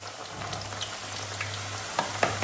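Eggplant pieces fry in hot oil with a steady dense sizzle and scattered pops and crackles, a low hum underneath, close and constant with no talking.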